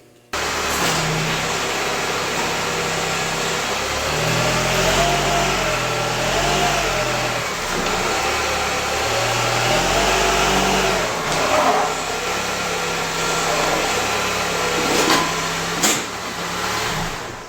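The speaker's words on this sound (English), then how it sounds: "Let me show you what it looks like when I drive up on them here." A car's engine idles and revs in bursts as it drives slowly up onto oil change ramps, with a low rumble that swells and eases across the clip, close and fairly loud.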